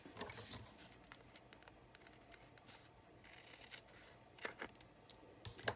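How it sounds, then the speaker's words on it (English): Scissors trimming paper for a 6x6 Halloween quad folio scrapbook album, faint snipping and cutting sounds with light paper rustle, quiet and close, no talk. "I'm going to trim that just a little bit."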